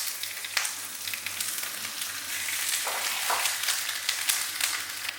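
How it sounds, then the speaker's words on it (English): Pak choi hitting a smoking hot oiled pan, giving a steady bright sizzle and crackle with slight surges, close and loud, alone without speech. "Once your pan is smoking, you can add your Pak Choi straight to the pan."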